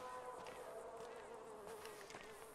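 A fly buzzes close by in the video game Grand Theft Auto 5, a continuous whining drone that wavers slightly in pitch, faint against a quiet background.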